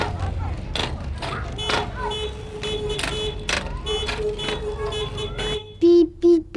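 A car horn sounds in several short honks, ending with two louder close beeps, amid background noise and scattered clatter.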